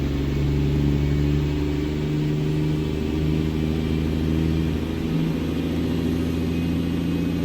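Mack F700 truck engine in American Truck Simulator pulling slowly up to speed, a loud steady low diesel drone with layered humming tones that shift gradually, no voices.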